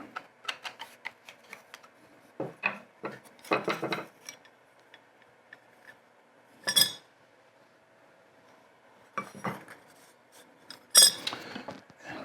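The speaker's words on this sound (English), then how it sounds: "Let me separate the chipper from the blade and take a look." Steel hand plane chipbreaker being separated from the blade, a run of sharp metallic clicks and clinks in short clusters against quiet gaps.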